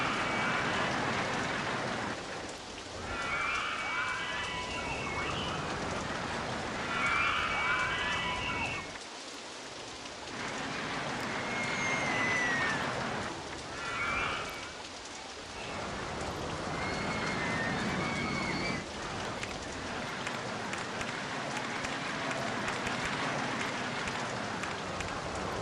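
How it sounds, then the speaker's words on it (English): Steady rain hisses throughout in the theme-park game OpenRCT2, a broad continuous wash with soft swells, faint and alone, with a few brief bright tonal chirps rising over it. "Here comes the rain."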